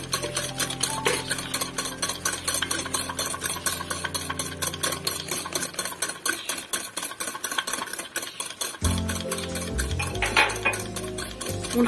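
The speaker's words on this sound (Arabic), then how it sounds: "ونخلطو جيدا" Chocolate cake batter with eggs, sugar and oil is mixed in a bowl, a rapid, steady rhythm of utensil clinking and scraping against the dish, close and continuous, with a brief clatter of handling near the end.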